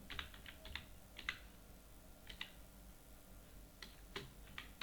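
Keys clatter on a computer keyboard in short bursts of quick taps with pauses between, fairly faint and close, with no voices.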